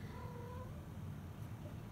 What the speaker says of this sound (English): you see a kitty in the background?